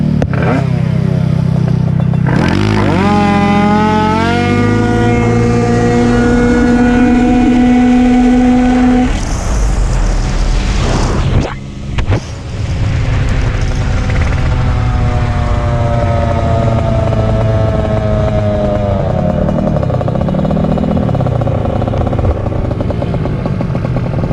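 A 70cc 2fast scooter and a 228cc Taida Ruckus scooter race, their engines loud and close, revving hard with rising, high-pitched whines that climb through the gears, briefly drop off, then wind up again.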